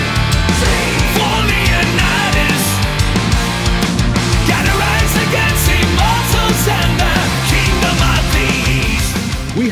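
A power metal track plays loud and full, with dense distorted guitars, driving drums and layered instrumentation running continuously throughout.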